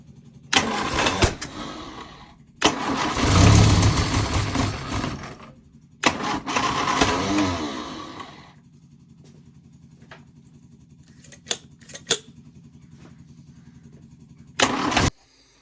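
A Lotus Elan engine cranking and trying to start after carburettor adjustment, with two loud bursts of starter and rough engine noise, a low idle-like hum between, and sharp clicks and knocks near the end.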